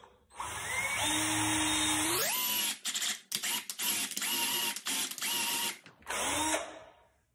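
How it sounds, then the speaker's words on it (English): A power drill with a 1/4-inch bit whines loudly, rising in pitch as it spins up, then runs in a series of short bursts with brief pauses before a final long run, boring into a ball. "So the 1/4-inch drill bit was a little too small"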